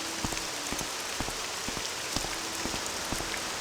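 Rain falling in the video game Morrowind: a steady hiss of rainfall with scattered sharp drop taps on surfaces, constant and fairly loud, with no speech.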